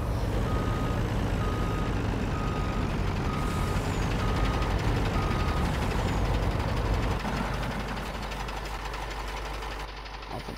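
A dump truck in Farming Simulator 19 reverses with a steady run of evenly spaced backup beeps over a loud, rumbling diesel engine that eases lower near the end.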